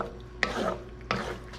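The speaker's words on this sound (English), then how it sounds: "So let's mix this hard vegetable with our meat, thoroughly mix" Hard vegetables being stirred into pork in a pan for cashew pork. Two distinct spatula scrapes sound about half a second apart, with a faint sizzle underneath.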